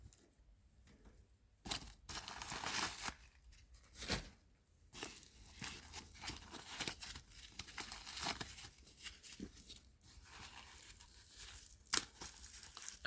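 Plastic wrapping being pulled off a Coach Rowan handbag, irregular crinkling and tearing rustles in bursts, close but fairly quiet, with no talk.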